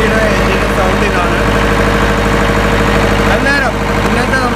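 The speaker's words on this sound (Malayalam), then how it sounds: "സൗണ്ട് തന്നെ മാറി, ഇതാണ് എ സിയുടെ എഞ്ചിൻ്റെ സൗണ്ടിനാണ്" An Ashok Leyland engine runs with the AC engaged in a steady, loud idling drone with a low throb and mechanical clatter, close up, while someone speaks briefly over it.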